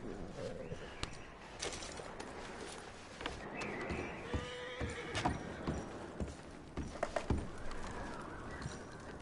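Horses in the Red Dead Redemption video game clip-clopping along with an occasional neigh, hooves steady and fairly close over ambient outdoor sounds, with faint chirps of birds in the background.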